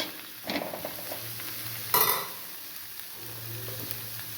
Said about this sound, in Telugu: హై ఫ్లేమ్లో ఫ్రై చేసుకుందామండి